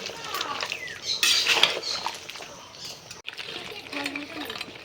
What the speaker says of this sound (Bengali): এবার এটা ভালো করে নেড়ে ভালো করে কষিয়ে নেব।